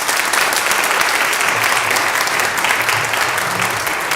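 An audience at a public safety forum applauds a speaker panel, a dense, steady roar of clapping that carries evenly from start to finish with no break.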